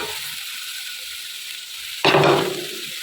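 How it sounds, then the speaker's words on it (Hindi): Okra dropped into a hot pan for khari bhindi: after quiet low simmering, a sudden loud burst of sizzling erupts near the end and stays bright and close, with no voices. "बस इस टाइम पे हम इसमें भिंडियाँ डाल देंगे।"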